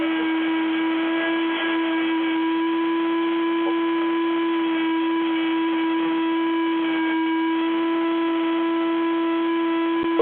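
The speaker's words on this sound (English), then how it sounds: "Man, that thing is loud. That's a vacuum." A vacuum cleaner drones loudly and steadily over a conference call line, a constant tonal hum with layered harmonics that holds unbroken for about ten seconds.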